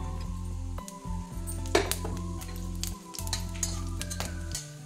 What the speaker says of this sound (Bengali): 10-15 সেকেন্ড এটা ভেজে নেব।